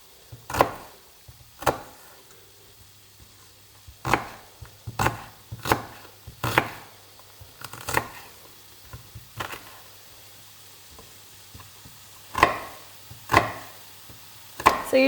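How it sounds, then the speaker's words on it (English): Brussels sprouts being diced with a knife on a cutting board, with sharp wooden chops landing close by in loose clusters and short pauses between them, and no talking. "So you can just dice it whatever size."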